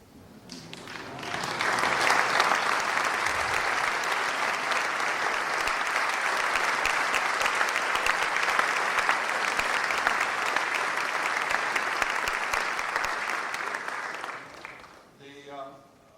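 An audience at a UC Berkeley NEMEA Project update gives a long round of applause for longtime attendees who are standing. The clapping swells quickly, stays dense and steady for many seconds, then fades as a voice begins.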